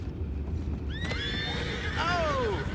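In a Red Dead Redemption 2 game scene, a horse lets out a loud, clear whinny that rises then falls over steady background rumble and faint hoof clatter.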